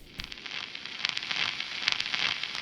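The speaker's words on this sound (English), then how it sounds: "I'm going to use this Cubase plugin called Grungelizer to just bring in a little bit of noise and a little bit of crackle." Noise and crackle from the Cubase Grungelizer plugin, used while recreating a song: a steady hiss scattered with fine pops and crackles, alone and moderately quiet.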